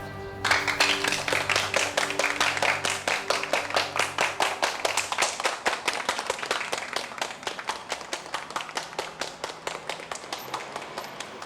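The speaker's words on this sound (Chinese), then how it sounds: "请大家为她鼓掌。" An audience claps for a teacher, steady rhythmic applause from a group of hands that swells early, then gradually thins and softens, with a faint musical tone lingering at the very start.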